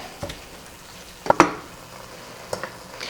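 Chicken frying in a pan for spicy basil pasta, a faint steady sizzle broken by a few sharp scrapes and clinks of a utensil stirring against the pan.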